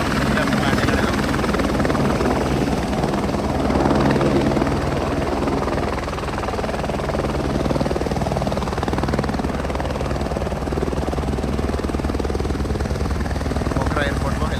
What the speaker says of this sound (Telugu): పోఖరా ఎయిర్పోర్ట్లో హెలికాప్టర్ ఒకటి ల్యాండ్ అయింది.